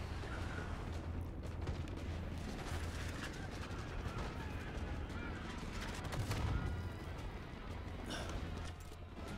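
Sustained gunfire in the video game Call of Duty Black Ops 6, rapid shots and bursts with rumbling impacts layered over continuous battle noise, dense and loud for the whole stretch.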